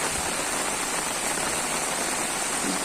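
Rain pours down steadily on a street in the Kankiya Plot area of Jetpur town in Rajkot district, a dense, continuous hiss close by and fairly loud, with no voices.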